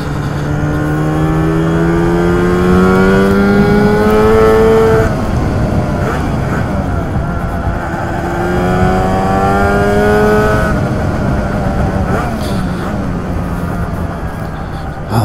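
Lambretta TargaTwin 275cc scooter engine on a road test ride, a smooth buzzing note that climbs in pitch through the gears, rising, dropping and rising again at close range with steady wind noise.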